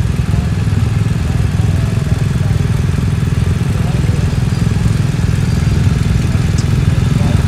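A BMW R 1250 GS Adventure motorcycle engine runs close with a steady, loud mechanical drone and faint clatter, sustained without clear rev peaks.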